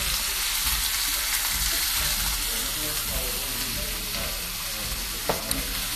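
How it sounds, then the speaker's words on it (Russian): Bacon sizzles and crackles in a frying pan, a dense continuous spatter with occasional sharper pops, recorded close and loud throughout. "жарим бекон параллельно"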